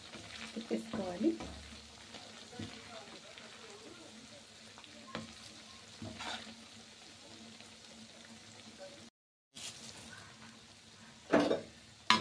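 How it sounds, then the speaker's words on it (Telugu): Kebabs fry in oil in a pan, giving a steady close sizzle throughout, with occasional clinks and scrapes as the pieces are turned and curry leaves are stirred in. "చూడండి ఒకవైపు బాగా వేగిపోయిన తర్వాత ఇంకొకసారి ఇలా తిప్పేసుకోవాలి."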